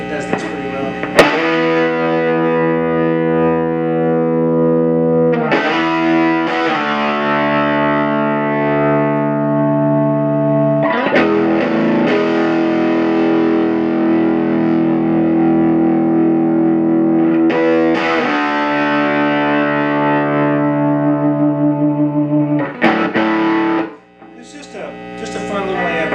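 A 1964 Magnatone 421 guitar amplifier turned up to full, giving loud sustained distorted guitar chords with ringing feedback tones, struck again every few seconds over about twenty-five seconds before a brief dip and a final chord.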